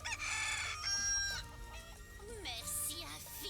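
Chickens in the Final Fantasy VII Rebirth video game clucking and squawking in overlapping calls, with a rooster-like crow mixed in, fairly close, over a soft game background.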